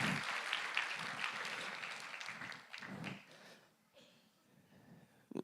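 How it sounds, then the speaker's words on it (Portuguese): A church congregation applauds, a fairly faint, uneven wash of clapping that fades out after a few seconds, with scattered individual claps toward the end. "Você pode aplaudir ao Rei dos Reis, Senhor dos Senhores"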